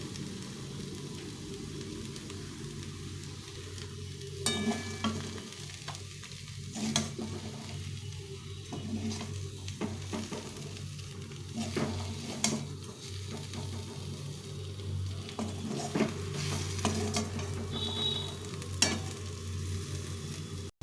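Leafy greens sizzle softly in a hot pan while being stirred, a steady close frying hiss broken by intermittent scrapes and clicks of the spatula, with no talking.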